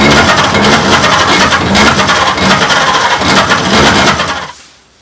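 A 1926 Oakland antique car engine cranking over as it tries to start after 75 years, a loud, steady churning rumble that runs for about four seconds before cutting off abruptly into quiet.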